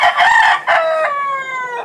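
A black gamefowl rooster lets out one full, loud crow close by, a rough opening phrase breaking into a long, drawn-out tonal call that trails off.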